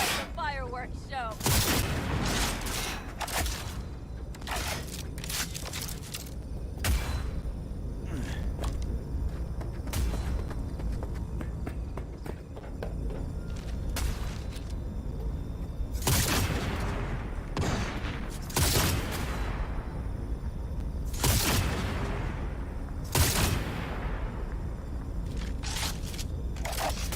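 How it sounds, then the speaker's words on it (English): Video game fireworks display: repeated loud booming bursts and crackle volleys, some close together and some spaced several seconds apart, keep going over a steady rumbling background. "It's a fireworks show."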